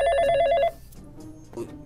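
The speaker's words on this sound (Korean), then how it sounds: "전화가 오네?" A telephone rings in a Minecraft roleplay scene with a fast, warbling electronic trill for under a second, loud and close, then cuts off into faint background noise.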